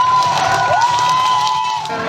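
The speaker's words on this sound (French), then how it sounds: "Merci d'applaudir bien fort vos hôtes d'honneur de ce subathon" Audience in a French variety show crowd cheering and applauding guests of honour at a subathon, loud and close, with whoops and a sustained shout carried over steady clapping throughout.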